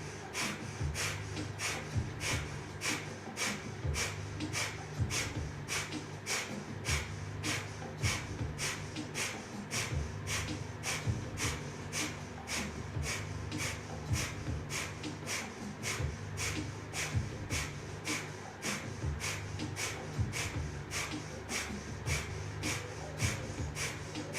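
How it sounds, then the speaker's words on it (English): Breath of fire breathing exercise: steady, rapid, forceful exhales through the nose at roughly two per second, each a short sharp snorting puff, continuing evenly throughout at close range with no talking. "begin breath of fire, or continue with slow, deep breathing"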